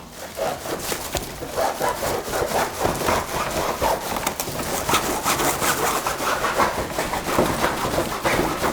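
A hand saw rasps back and forth in quick, steady strokes through many layers of plastic, close up and continuous throughout.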